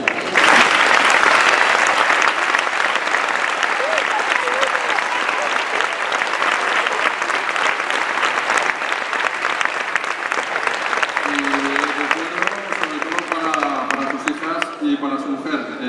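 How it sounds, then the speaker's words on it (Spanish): Sustained, loud applause from a gala audience paying tribute at an Asturian handball awards ceremony, dense clapping filling the room throughout, with a voice briefly rising over it near the end. "escuches este aplauso emocionado de tu balonmano"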